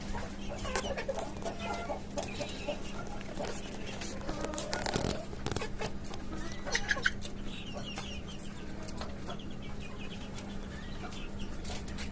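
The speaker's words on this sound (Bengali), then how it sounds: "এখানে আমার আরো কিছু আপনার বাচ্চা মুরগি আছে" Native hens and chicks on a rooftop chicken farm cluck and peep intermittently, fairly faint, with scattered rustling and a low steady background hum, and a voice speaking at times.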